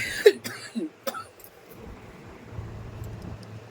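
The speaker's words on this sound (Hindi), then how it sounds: "और फिर से देखिए खांसी आने लगी जब ज़्यादा देर तक बोलते रहो।" A woman coughs indoors, several sharp coughs and a throat clear in quick succession at close range, followed by low background rumble and quiet room noise, with no talking.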